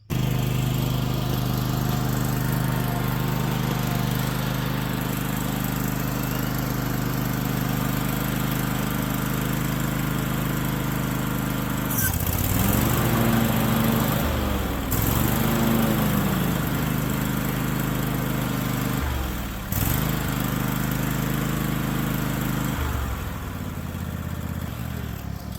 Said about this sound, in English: let's make sure it works and the mower will fire up and the blades will engage